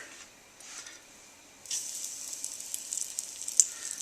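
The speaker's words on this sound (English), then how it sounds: "It's time to drop in our beef chunks for a quick sear." Beef chunks searing in a hot pan for stew, a sharp hiss that jumps up midway and keeps crackling steadily with small pops, no talking.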